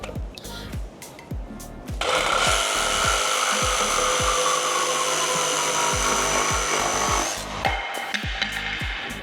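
A DeWALT power saw cuts through pallet wood in one loud, continuous whining cut lasting about five seconds, with a steady run of rhythmic ticks and clicks before and after the cut.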